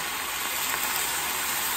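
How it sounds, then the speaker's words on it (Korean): Seasoned vegetable namul stir-fries in a pan with a soft, steady, fairly quiet sizzle throughout and no voices. "양념을 주물주물 한 다음에 불 켜고 볶아주세요"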